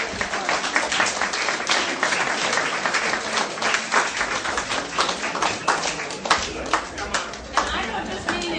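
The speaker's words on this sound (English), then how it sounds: "we could give you a round of applause" An audience gives a round of applause for World War II veterans at a history talk, many hands clapping in a steady, uneven patter with a few sharper claps standing out, voices murmuring faintly underneath.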